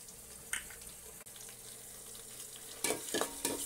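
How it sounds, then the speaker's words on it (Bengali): Onions and ginger-garlic paste frying for a cauliflower and meat curry give a quiet, steady sizzle, broken by a few clinks and scraping stirs near the end, with no talking. "এগুলোকে আমি এখন 2 মিনিটের মতো ভেজে নেব"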